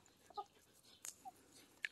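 A few soft, scattered clucks and short calls from Araucana chickens with small clicks of pecking at a tomato plant, quiet and close, no talking.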